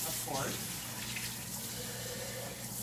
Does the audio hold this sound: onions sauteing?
no